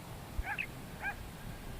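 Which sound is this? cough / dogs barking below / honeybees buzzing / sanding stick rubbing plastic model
dogs barking below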